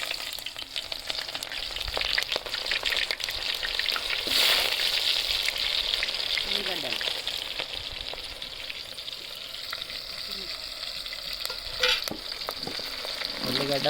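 Mutton curry sizzling and frying in a pot outdoors, with a constant hiss broken by scraping stirs and occasional clinks of the spoon against the pot.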